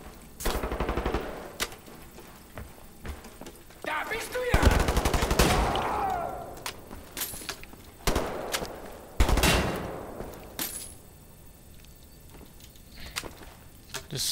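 Repeated loud gunshots from a favourite gun in the first-person shooter game Wolfenstein: The New Order, sharp blasts spaced a second or two apart over game background noise.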